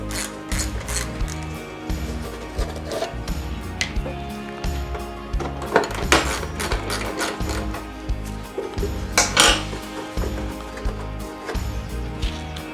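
Metal shroud bolts on a Wisconsin S-10D engine are worked loose and handled, giving irregular ratcheting clicks, clinks and scrapes close by, with a few louder metallic knocks and no talking.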